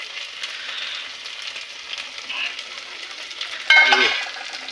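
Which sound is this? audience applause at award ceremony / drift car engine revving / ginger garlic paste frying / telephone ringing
ginger garlic paste frying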